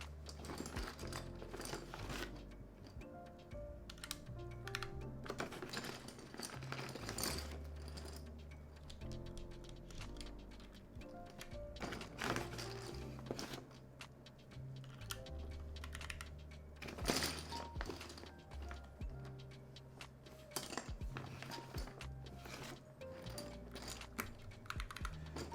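Typing on a KBDFans Tofu 60 keyboard fitted with Gateron Yellow switches lubed with 205g0, a steady stream of fairly close keystrokes with occasional louder clacks, no talking.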